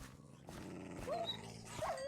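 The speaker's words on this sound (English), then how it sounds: "there's a bunch of dogs now guarding our way back in" Dogs in the Minecraft modpack GregTech New Horizons give a couple of short, high yips or whines over steady background game ambience, with no one talking.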